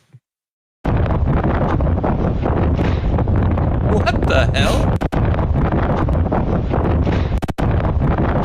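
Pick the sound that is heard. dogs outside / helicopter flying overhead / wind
wind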